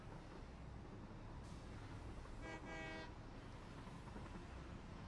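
A train in the Satisfactory video game rumbles steadily along, with a brief horn-like tone sounding partway through over the continuous rolling noise.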